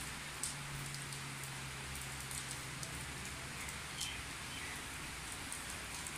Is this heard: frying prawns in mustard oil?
no